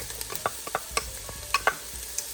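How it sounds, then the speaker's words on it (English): Diced yellow onion and minced garlic sauté in a pan over medium-low heat, a soft steady sizzle broken by scattered sharp clicks and scrapes of a utensil stirring. "Saute that until our onions start to get translucent and soft."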